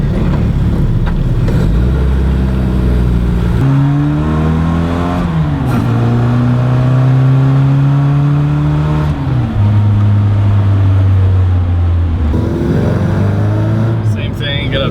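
A classic Mini engine, just after an ignition timing adjustment, revs loudly and close up, pitch climbing and dropping through several gear pulls in a steady driving run, with a voice briefly heard.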